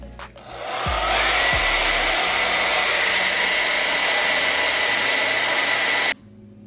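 A hair dryer blows at a perm rod set on short natural hair, switching on with a couple of clicks, then running loud, close and steady for about five seconds before cutting off abruptly.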